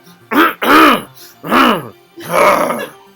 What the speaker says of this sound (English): Every time I clear my throat, it's the same voice as Sato, basically.